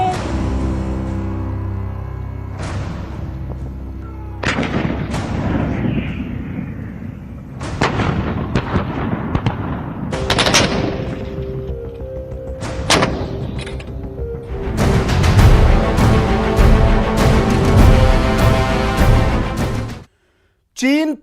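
Indian Army T-90 Bhishma tanks firing at the Mahajan field firing range near Bikaner, loud booming blasts and thumps at intervals, with a dense rumbling stretch near the end, mixed with a voice and music.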